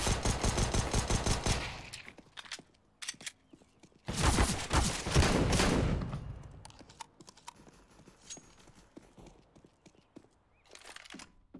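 Rapid gunfire bursts from the video game CS:GO, loud clattering volleys at the start and again in the middle, with scattered shorter shots and clicks between and a final burst near the end, no talk over them.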